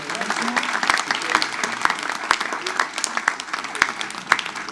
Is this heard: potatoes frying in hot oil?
no